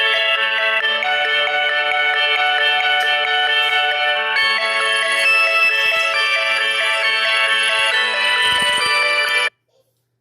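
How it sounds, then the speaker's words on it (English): A phone ringtone plays loud and close for about nine seconds, a steady repeating electronic melody during a live cooking session in a kitchen, then cuts off abruptly. "I did not mute my phone before I started this."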